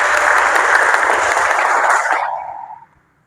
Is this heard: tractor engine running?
no